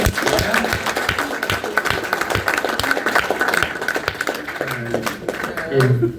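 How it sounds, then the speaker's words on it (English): An audience at a Serenity Event claps steadily for Tracy, a dense close patter running throughout with voices talking over it and a brief tonal sound near the end. "everybody give a big round of applause to Tracy"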